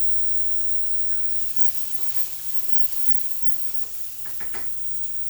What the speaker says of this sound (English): I can already see the blistering happening